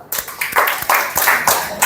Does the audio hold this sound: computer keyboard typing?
no